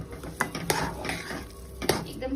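Sugar and food colouring stirred in a pan for sweet potato shiro, a spoon scraping and clinking against the metal in a few distinct knocks over soft stirring, fairly quiet and without speech.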